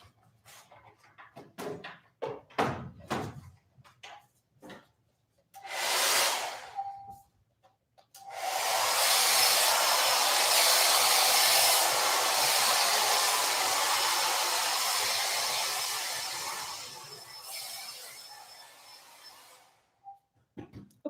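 A hair dryer on a medium setting dries a painting during a live painting class. Scattered taps and a short whoosh come first, then a steady close blowing roar holds for about eleven seconds before cutting off.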